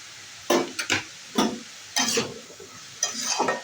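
Shidol shutki fish paste mixed with salt, turmeric and Kashmiri chilli powder is stirred in a pan, giving several separate scraping, sizzling strokes close by with short pauses between them.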